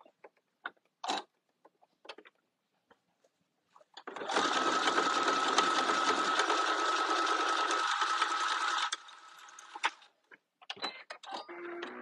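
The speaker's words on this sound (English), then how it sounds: "I'm going to stitch this real quick." A sewing machine stitches a hoodie in one loud, steady run of about four and a half seconds, bracketed by quiet clicks and handling noises before and after.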